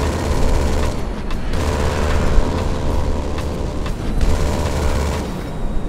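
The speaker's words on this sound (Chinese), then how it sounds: "前面会射击机枪" In the GTA 5 video game, the B-11 Strikeforce jet fires its front machine gun. Loud, continuous rapid fire rattles over a steady engine roar for the whole stretch.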